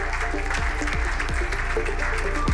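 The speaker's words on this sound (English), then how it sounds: "if we can give them a warm round of applause" Applause welcomes a panel onto stage at an international investment summit, a hall full of clapping that runs continuously and fairly loud, with low thumping beats of music underneath.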